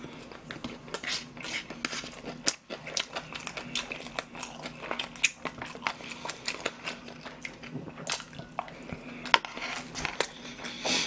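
Rice burger being eaten up close, with repeated soft bites and steady wet chewing and crunching throughout, plus occasional light clinks of dishes, with no talking.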